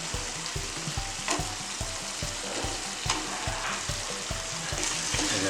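Eggplant being stirred and fried in a pan for a Gujarati vegetable dish, a constant sizzle broken by regular spatula scrapes and knocks against the pan, close and moderately loud with no talk.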